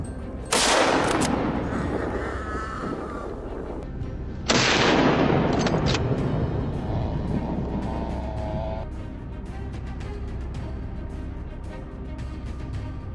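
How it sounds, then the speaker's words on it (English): Two loud, sharp blasts from a hunting rifle during a wild boar hunt in a swamp, one near the start and another about four seconds later, each followed by a long echoing decay. "The hunt began with powerful, decisive shots."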